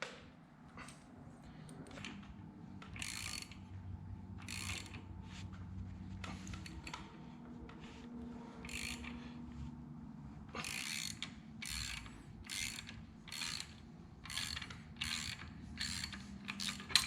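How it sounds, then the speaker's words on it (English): A pulley puller draws the pulley off an LS (LQ9) V8 engine, giving a run of close mechanical ratcheting clicks and metallic ticks, quickening into a rapid burst of clicks near the end, with no talk. "So now I can take off this pulley and then I can take off the timing cover"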